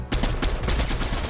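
A dense burst of rapid automatic gunfire from a shooter video game, continuous and loud throughout with no pauses.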